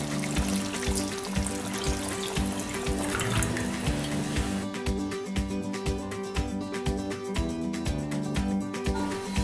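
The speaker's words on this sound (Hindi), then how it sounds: "और साथ ही मैं इसमें डाल दूंगी 2 कप पानी।" Two cups of water poured into cooking mutton nihari with curd in a pot: a gushing, splashing pour with sizzling for several seconds, followed by quieter bubbling and simmering.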